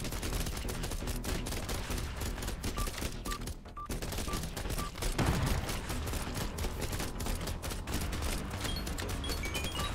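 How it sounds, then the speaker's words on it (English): SMG gunfire in the zombie bullet-heaven game Biters & Bullets rattles continuously, a dense unbroken stream of rapid shots mixed with small game effects, steady and moderately loud throughout. "I'm gonna get the SMG."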